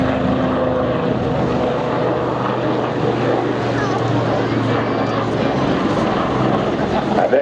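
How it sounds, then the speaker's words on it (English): A continuous, loud rotor and engine drone from a Lynx helicopter flying an aerobatic display at the 2014 Eastbourne airshow fills the air with little change, while a voice talks faintly underneath. "This is a helicopter doing what the big boys in the fixed wing world do."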